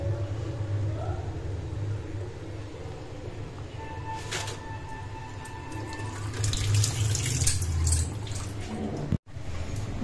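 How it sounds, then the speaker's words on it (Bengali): Tap water runs steadily into a sink while fish are washed, a continuous close splash with some clattering and handling sounds, and a brief dropout near the end. "মাছগুলো এবার ধুতে টাইম লাগবে।"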